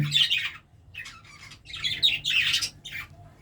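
Several budgerigars squawk and chirp close by in quick, bright bursts, with brief pauses between clusters of harsh calls.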